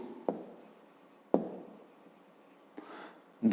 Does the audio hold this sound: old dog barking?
no